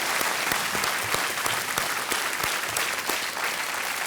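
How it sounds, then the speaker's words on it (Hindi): Studio audience applause on the KBC game show, a steady, full roar of many hands clapping for a contestant, continuous and fairly loud for several seconds with no talk. "तालियों के साथ इनका अभिनंदन"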